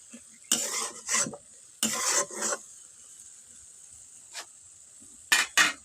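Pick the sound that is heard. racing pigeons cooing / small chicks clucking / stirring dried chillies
stirring dried chillies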